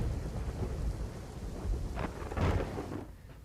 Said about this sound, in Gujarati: સવારથી જ વાદળછાયા વાતાવરણ વચ્ચે વરસાદી ઝાપટા પડી રહ્યા છે